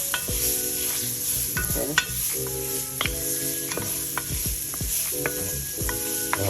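Chopped onions, about half an onion, sizzle in a hot pan for curry chicken, a steady close frying hiss broken by repeated sharp scraping and stirring knocks, with one brief word spoken.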